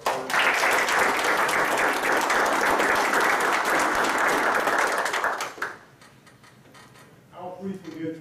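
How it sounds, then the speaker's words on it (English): A meeting audience of county commissioners applauds the budget coordinator with dense, steady clapping for about five seconds, then the clapping breaks off abruptly and leaves quieter room noise with faint sounds. "certainly a round of applause to Tanya for her."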